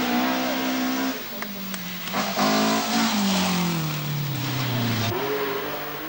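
A Datsun Silvia twin cam rally car at the 1982 Portugal Rally, driven by Timo Salonen, roars past with a loud engine rising and falling through gear changes, revs climbing then dropping sharply near the end.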